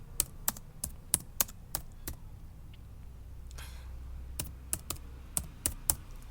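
Computer keyboard keys tapped while entering data in an Excel spreadsheet, crisp close clicks in short bursts with a pause in the middle, over a quiet room hum.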